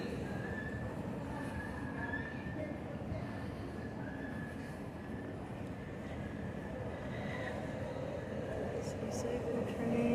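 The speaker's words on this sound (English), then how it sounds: "Circle train." A Sydney circle train rumbles at Central station, with a steady low rolling drone and faint wheel squeal running throughout at moderate distance.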